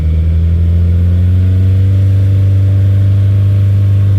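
A car engine, held steady while being measured for loudness in New York City, hums loud and continuous for about four seconds, with its pitch climbing gradually as the revs rise toward 4,000 RPM.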